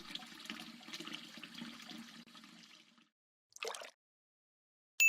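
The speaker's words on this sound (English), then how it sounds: "More water." More water runs into a glass aquarium tank inside a LEGO aquarium bed, a continuous close pour for about three seconds that stops, followed by a short splash and a brief final burst.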